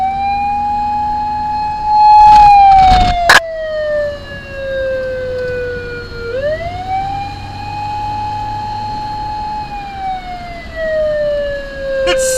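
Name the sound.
siren on a 1992 Suzuki Carry fire van conversion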